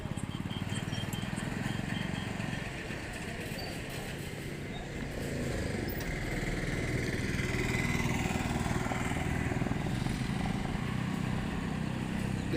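A motorcycle tows a bike trailer loaded with roughly 300 to 350 kg of soil sacks. Its engine drones steadily and fairly loud throughout, rising a little in the second half, with no clear speech.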